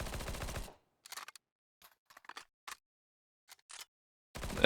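Counter-Strike 2 P90 submachine gun shooting: a short opening burst, then scattered quick single shots and brief bursts separated by silence, ending with another burst, close and crisp.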